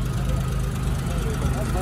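The engine of a Daewoo Matiz car idles with a steady, even low rumble close by, while people talk over it.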